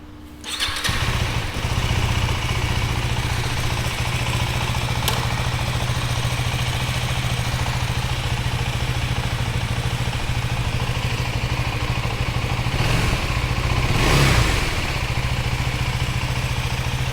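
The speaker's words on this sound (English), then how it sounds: "let the motorcycle idle for at least a minute" A KTM Duke 390 motorcycle idles just after an air filter replacement, its engine holding a steady, close, continuous rumble with no change in pace and no one speaking.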